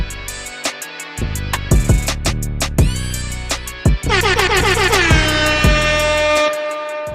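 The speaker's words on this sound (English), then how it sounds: "I love that air horn, bro." Loud air horn blasts, a rapid series of short honks followed by longer sustained blares, close and dominating.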